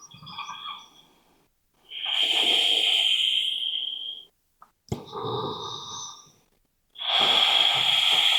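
Slow, deep breaths during a yoga child's pose: three long, airy exhales and inhales close to the ear, separated by short pauses of quiet.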